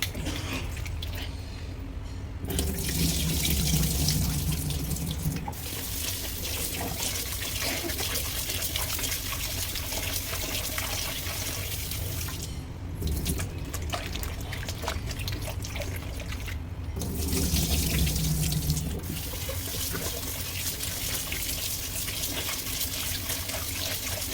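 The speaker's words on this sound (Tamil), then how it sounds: "இதை அப்படி நல்லா அலசிட்டுங்க இதில் பாருங்கள் தண்ணி க்ளீனாக வரணும்" Pieces of white pumpkin rinsed under running tap water in a sink for an Agra petha sweet, a steady close splashing stream with two louder bursts of pouring and brief gaps as hands work the pieces.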